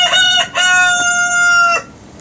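A rooster crows loudly and close by, one long, clear cock-a-doodle-doo call that ends abruptly.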